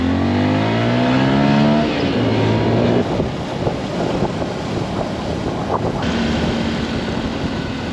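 A car drives along a rugged gravel road in the Vietnamese mountains, with a steady rumble of tires and engine under strong wind buffeting the microphone, loud and continuous throughout.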